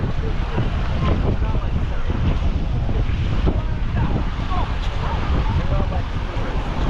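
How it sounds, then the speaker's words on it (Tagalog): Steady, loud wind roars and buffets the microphone without a break beside fresh water near Cairns, Australia, with faint water or surf noise mixed into the rush. "Oh, sarap na hangin."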